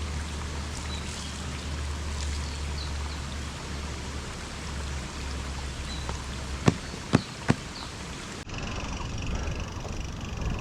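A stream flows in a steady broadband rush beside a mountain road, with a few sharp knocks partway through before the sound abruptly shifts in tone.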